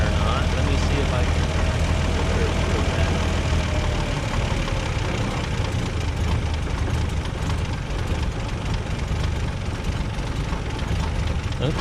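A pre-war Rolls-Royce car engine with its exhaust cutout open runs continuously with a dense, loud low rumble and broadband roar, close and steady throughout, with a voice faintly talking underneath.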